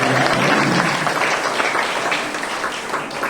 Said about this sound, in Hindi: इस महिला के लिए एक बार तालियों के साथ स्वागत करें।